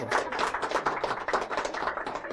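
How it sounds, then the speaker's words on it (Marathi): An audience claps together at a television game show, a steady run of dense, close hand claps with no one speaking. "टाळ्या वाजवा जरा"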